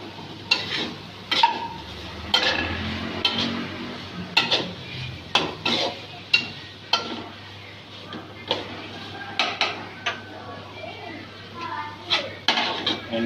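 Boiled peas being lightly fried in a pan, with a soft steady sizzle beneath regular clanks and scrapes of a spoon stirring against the pan; a voice talks at times.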